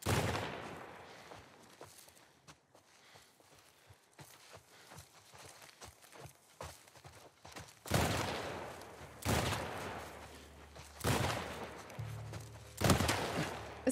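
Gunfire from a sniper in The Last of Us Part 1, heard as loud broadband blasts at intervals, several heavy shots in the second half after quieter scattered impacts and footstep-like taps.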